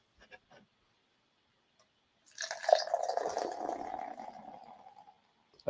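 Left Hand Brewing Oktoberfest beer pours from a can into a glass, a soft gurgling splash lasting a few seconds after a couple of faint clicks, with no talking.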